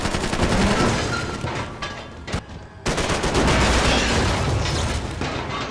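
Rapid, loud gunshots crack in Max Payne 3, shots packed tightly together in a near-continuous volley, with a brief lull partway through before the firing resumes just as hard.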